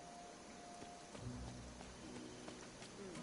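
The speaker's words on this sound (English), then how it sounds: "I hope the storm doesn't get too bad" Steady rain hissing throughout a storm in Disney Dreamlight Valley, with a low rumble building midway like distant thunder, heard without any talking.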